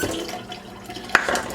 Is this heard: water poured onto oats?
yes